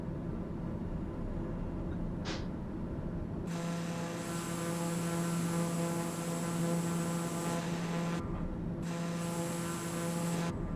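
TBM turboprop airplane circling with landing gear and flaps down near Mount Everest: a steady droning propeller hum with tonal whine that swells and drops back, heard from inside the aircraft.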